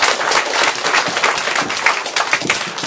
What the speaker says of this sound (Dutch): Mag ik daar een keihard applaus voor